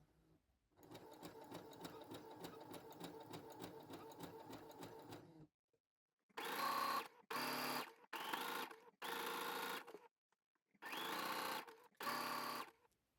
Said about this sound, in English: once you've zigzagged over the cord or floss or fishing wire or whatever it is that you use